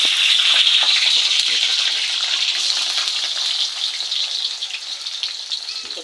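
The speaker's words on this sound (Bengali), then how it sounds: "ভাজি একটু ছিম আলু ভাজি হবে।" Potatoes and green beans frying in hot oil, a steady, close, continuous hiss that fades slightly toward the end, with no talking.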